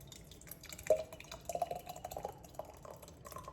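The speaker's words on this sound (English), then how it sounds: "So you just start by pouring your sauce into the jar." Homemade pasta sauce is poured into a jar, giving quiet, thick dripping and soft gloopy plops in uneven bursts.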